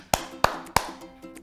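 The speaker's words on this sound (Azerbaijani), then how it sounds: "əllərindən tez-tez əl çal" A person claps their hands quickly, three sharp close claps in quick even rhythm followed by a couple of softer, fainter ones.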